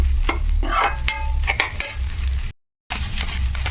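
Egg and leftover rice are stirred together in a pan, with a spoon clinking and scraping against the metal over a light sizzle, and a brief moment of silence partway through.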